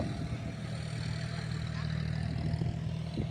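A tractor engine runs steadily in a farm field, a low, even mechanical drone held at moderate level throughout with no clear revving.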